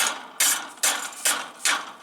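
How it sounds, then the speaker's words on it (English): Four sharp metallic hammer strikes bending wire, evenly spaced about every half second, each ringing briefly before fading; close and fairly loud with no talking. "I bend the wire using a hammer."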